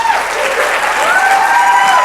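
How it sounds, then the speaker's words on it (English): Audience applause for a comedian at a stand-up show at the Skirball Center, steady, dense clapping from a large crowd filling the room without pause. "Let's give Santiago a big round of applause."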